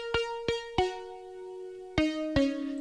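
Synthesizer preset playing a few separate sustained tones, each with a sharp attack and a ringing held pitch, five notes in all, clear and close with no talk.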